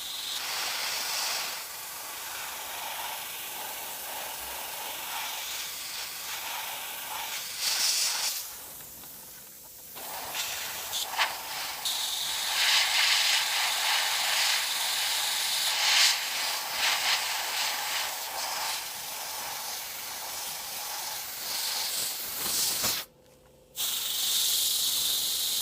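An airbrush hisses steadily as it lightly sprays paint to weather and age a model, a continuous close airy spray with brief pauses and one short cut-off near the end.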